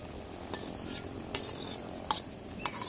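Red curry paste and coconut milk frying in oil for a chicken and pickled bamboo shoot curry cooked outdoors, a steady close sizzle with a few sharp clinks of a utensil against the pot.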